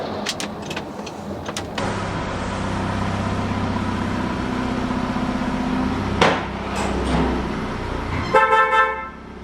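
A rebuilt Audi TT engine idles steadily and close by with a low, even hum, broken by a few sharp clicks and knocks and a short burst of higher tones near the end.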